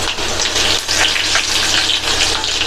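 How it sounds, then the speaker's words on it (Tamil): Mustard seeds, urad dal, cumin, crushed garlic and dry red chillies frying in hot oil, a loud, close, steady crackling sizzle that continues without a break. "1/2 டீஸ்பூன் உளுந்தும் 1/2 டீஸ்பூன் சீரகமும் சேர்த்து நல்லா பொரிய விட்டுறணும்"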